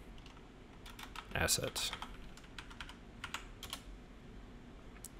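Computer keyboard typing in several bursts of quick clicks, with a louder cluster early on, close and clear under a brief spoken word.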